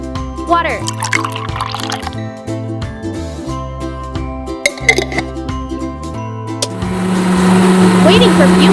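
Water pours steadily into a tiny miniature-kitchen pan, with trickling and dripping over steady background music; the flow grows louder and fuller toward the end.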